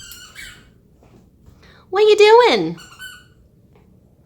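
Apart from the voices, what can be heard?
puppy squeaking while playing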